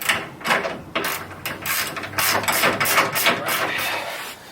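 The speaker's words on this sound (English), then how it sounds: "Now once it gets kind of tough, just get your ratchet." A hand ratchet tightens the rear upper shackle bolt on a 2018 Toyota Tacoma during a 4-inch lift install, giving loud, close, rapid metallic clicking in repeated strokes with short gaps.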